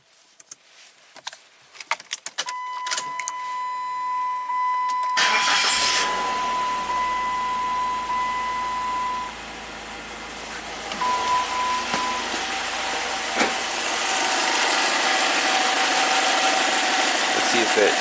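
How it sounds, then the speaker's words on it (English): A Chrysler PT Cruiser with low power and no boost cranks after some clicks and handling noises, catches, and settles into a steady close idle that runs on to the end. "What about with the car running?"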